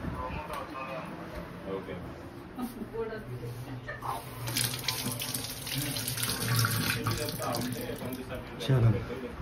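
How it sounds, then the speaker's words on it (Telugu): Water runs from a tap into a sink as hands are washed, a steady close splashing stream through the whole stretch with people talking over it. "సో హ్యాండ్ వాష్ అయితే తీసుకున్నాం"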